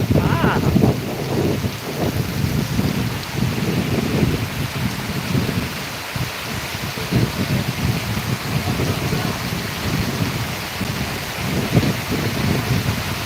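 Heavy monsoon downpour over a village, a steady dense roar of rain with low rumbling undertones like distant thunder, loud and continuous throughout.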